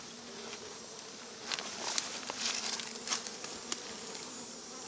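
Honey bees buzz softly around a slowly building hive with few bees, a faint continuous drone with brief closer passes rising and fading.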